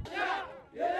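A crowd of protesters shouts together in two loud, surging bursts with a brief dip between them, many voices overlapping.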